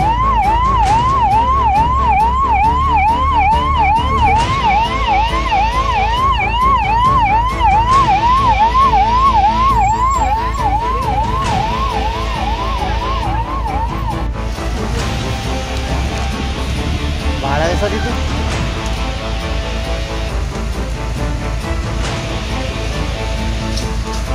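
A fire engine siren wails loudly at a chemical factory fire, cycling up and down quickly for about fourteen seconds before cutting off, leaving a steady hiss of rain-like background noise.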